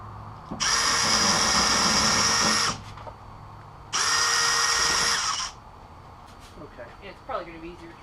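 A power drill boring into the trunk lid of a 1972 Oldsmobile Cutlass, two loud, close bursts of steady whining lasting about two seconds each, separated by a short pause, with faint quieter sounds afterward.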